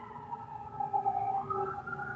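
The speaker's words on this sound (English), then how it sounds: "And if someone's got the ambulance going, you maybe want to mute." An ambulance siren wails in the background with a rising and falling tone, faint and muffled, as if coming through a distant open microphone, with no speech over it.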